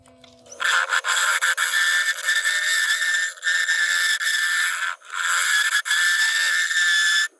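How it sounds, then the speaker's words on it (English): Sandpaper on a spinning turned wooden bowl on a lathe gives a loud, steady rasping hiss in long continuous bursts, broken by brief pauses as the paper lifts off the wood. "Right, we shall start sanding."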